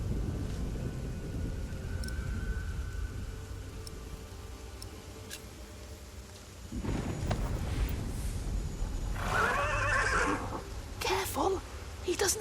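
A horse neighs loudly in a video game, a shaky, bright whinny rising out of rumbling wind and ambient noise near the end, after a stretch of low background rumble.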